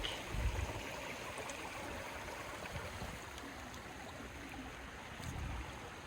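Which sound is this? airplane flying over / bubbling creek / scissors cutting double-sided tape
bubbling creek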